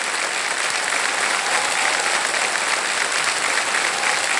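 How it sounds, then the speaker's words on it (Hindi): Loud, sustained applause from a studio audience at a Kaun Banega Crorepati game show taping, a dense, even clatter of clapping hands that fills the whole stretch without pause. "और जोरदार तालियां बज जाए इनके"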